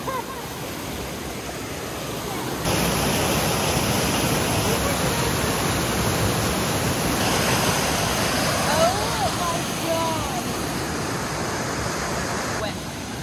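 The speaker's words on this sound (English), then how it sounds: "just found ourselves at a river crossing after rain" Rushing water roars continuously as a rain-swollen river flows nearby in the White Mountain National Forest, New Hampshire, a broad steady wash of noise with faint voices underneath.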